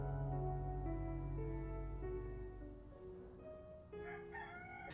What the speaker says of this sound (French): Oh la France, ce coq.